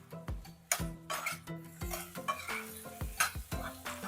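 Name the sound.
potato frying and being stirred in oil in a pan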